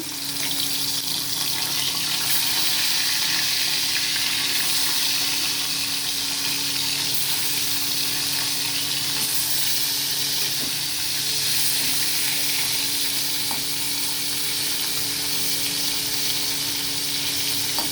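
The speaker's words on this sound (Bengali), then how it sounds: "বাকি মাছগুলো এইভাবে ভেজে নেবো এগুলো এইভাবে ভেজে নেবো" Small bata fish frying in hot oil, giving a steady, dense sizzle that holds evenly throughout at close range with no talking.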